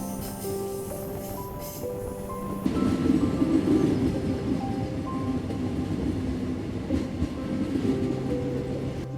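A train on the Malaysian East Coast jungle line rumbles steadily along the rails with a continuous clattering roar, growing heavier after a few seconds, heard from inside the carriage.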